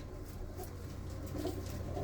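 Pigeons cooing in a loft, soft low burbling calls repeating under faint background noise, fairly quiet and close.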